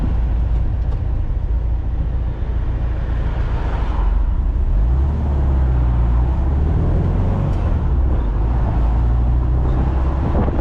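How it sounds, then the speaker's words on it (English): A car engine idles smoothly up close, a steady low rumble with even pulses and no speech. "Very smooth, idle spot on."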